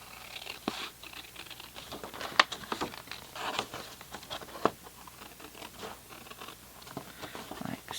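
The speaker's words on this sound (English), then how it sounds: "You're going to come in with your snips and cut on this long" Snips cut through paper for a mini album pocket scrapbook insert, producing quiet crisp snips and papery rustles, with a couple of sharper clicks standing out close by.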